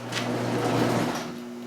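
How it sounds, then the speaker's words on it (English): The door of a 1955 Buick swings open with a short, fairly steady mechanical scrape and clunk, heard close up over a constant low electrical hum. "Got the door open."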